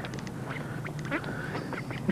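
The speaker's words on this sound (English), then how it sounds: "They're a cross between a mallard and an Indian runner." Ducks that are a mallard and Indian runner cross quack in short repeated bursts nearby, several calls overlapping against outdoor background noise.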